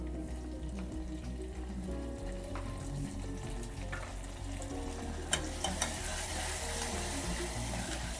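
Tomatoes go into a pan of onions, coriander, mint and oil frying for a cluster beans curry, giving a steady close sizzle with crackling spatters and the occasional scrape of stirring.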